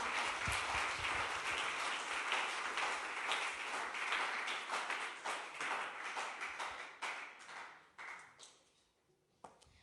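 Church congregation applauds during a Spanish-language service, with loud sustained clapping that swells, then breaks up into scattered claps and fades out near the end.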